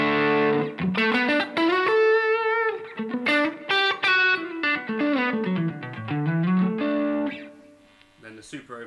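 Distorted electric guitar through a Boss Super Overdrive pedal into a clean amp, playing a melodic phrase with thick, warm overdrive, loud and close, with sustained notes and slides, no talking.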